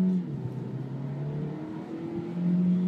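A 2017 Kia Niro hybrid's engine hums steadily from inside the cabin, its pitch climbing as the car accelerates, with a smooth whirring tone throughout.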